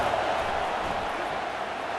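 Stadium crowd cheers in a steady, dense roar as the defense tries for a third-down stop in EA Sports College Football 25, a continuous wash of noise without breaks.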